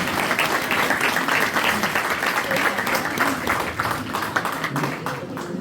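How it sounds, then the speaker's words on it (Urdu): An audience in Bradford applauds Amma ji with steady, dense clapping that fills the room continuously, a lively crowd sound with no pauses. "اماں جی کے لیے بہت تالیاں ہوئی ہیں"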